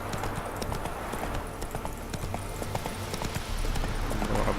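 Roach, the horse in The Witcher 3 video game, gallops along with rapid, rhythmic clip-clop hoofbeats that carry steadily throughout, fairly close and with no talking over them.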